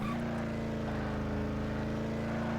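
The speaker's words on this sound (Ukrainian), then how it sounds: "Дуже класно реалізовані звуки моторів, особливо коли їдеш на мостангу." A Ford car engine in the racing game Ford Racing 2 drones steadily at high revs, a continuous buzzing hum with no breaks.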